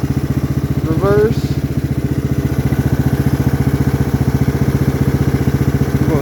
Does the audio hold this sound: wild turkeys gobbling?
no